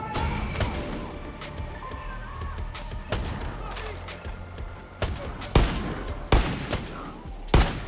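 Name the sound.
sniper rifle gunfire in video game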